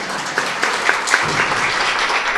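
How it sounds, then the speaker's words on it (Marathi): An audience claps steadily for a young singer who has just sung raga Kanada at a poetry-based performance workshop, a dense, even patter of many hands with no voices over it. "याच्यासाठी टाळ्या वाजवा बरं"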